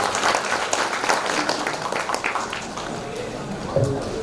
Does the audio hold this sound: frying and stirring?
no